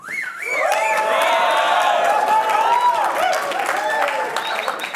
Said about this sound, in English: I want you to show more approval than you did when we went through the last clapping exercise